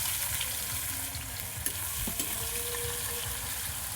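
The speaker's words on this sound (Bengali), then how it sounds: "ওই ভেটকি মাছের তেলের মধ্যে। এই যে একটু ভাজা ভাজা হবে, তার মধ্যেই কাঁচা পেঁয়াজগুলো কুচনো দিয়ে দিতে হবে।" Chopped raw onions frying in oil left from cooking bhetki fish, a steady close sizzle running throughout with occasional small pops and stirring, no talk.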